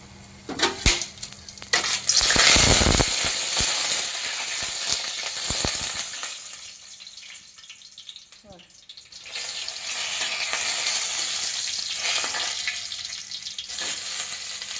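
Whole cinnamon and cardamom pods sizzle in hot oil for a chilli-gourd curry, a loud crackling burst near the start settling into a steady close hiss with some stirring and clatter.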